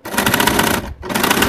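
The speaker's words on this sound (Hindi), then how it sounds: "अब हम सिलाई दे के दिखा रहे हैं, इस तरह से करने जा रहे हैं।" Sewing machine stitching a homemade bag in two quick bursts of rapid, loud, close clattering stitches separated by a brief pause.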